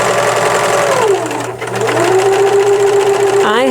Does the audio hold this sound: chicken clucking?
no